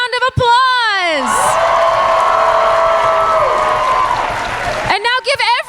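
Audience applause and whoops for cosplay contest winners at the Tampa comic convention, a loud steady crowd roar lasting several seconds between short bursts of a host's voice at the start and end.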